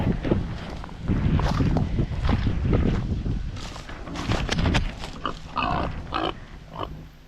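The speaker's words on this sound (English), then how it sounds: "I'm gonna say hi to the pigs." Pigs on a farm grunt repeatedly and close by on a windy day, short snorting bursts coming in irregular clusters over gusty microphone wind noise.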